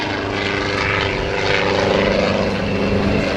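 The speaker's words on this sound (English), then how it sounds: "For this maneuver to be a perfect square loop, Otto must form a square in the sky." A helicopter flying a square loop at a 2009 NAS Oceana airshow gives off a loud, continuous rotor and engine roar that swells slightly partway through, with no talk.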